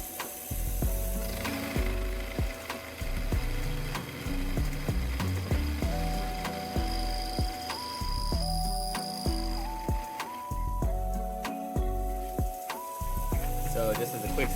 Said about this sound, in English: I got my spindle on, I'm at the first point, I'm gonna plunge